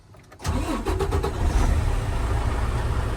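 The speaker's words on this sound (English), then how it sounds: "I'll start the engine." A heavy truck engine cranks briefly with rapid starter pulses, then catches and settles into a loud, steady rumbling idle close by.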